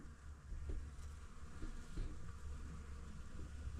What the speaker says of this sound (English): I wonder if the camera picks up the bees, the noise.